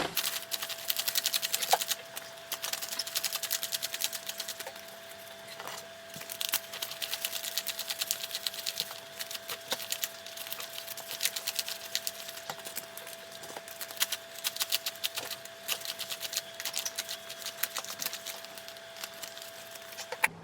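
Paper dollar bills counted by hand, roughly $275 in cash, producing a steady run of soft, quick riffling and flicking sounds up close, with no talk.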